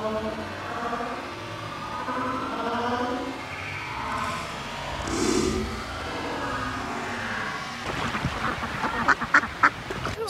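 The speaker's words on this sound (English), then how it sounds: "That is an ugly baby duck." Ducks quacking outdoors in San Saba, Texas, scattered soft calls over ambient noise, ending with a close burst of loud, rapid quacks.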